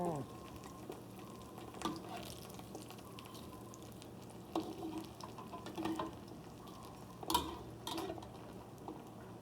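Food frying in hot oil in a home kitchen, with a faint crackling sizzle under scattered clinks and scrapes of stirring, quiet and close.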